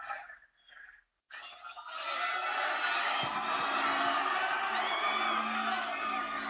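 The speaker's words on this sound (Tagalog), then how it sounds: "Wala bang palakpak dyan, Palawan?" A large outdoor concert crowd at a music festival in Palawan erupts into sustained cheering, whooping and applause after a brief quiet pause, loud and continuous through the end.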